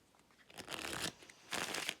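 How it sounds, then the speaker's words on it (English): Playing cards for the card game Cat Lady being shuffled up close, two quick riffling bursts with a short pause between, crisp and papery, no talking. "And so we'll shuffle these up."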